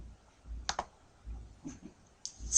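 Typing on a computer keyboard in short bursts of key clicks separated by pauses, close and fairly quiet, with no talking.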